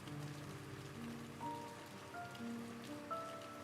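Steady rain patters on a surface without pause, with faint soft tones drifting underneath.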